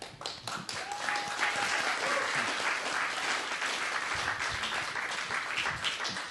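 Theater audience at the Oslo Freedom Forum gives Farida a full, steady round of applause, dense and sustained throughout with a faint whistle early on.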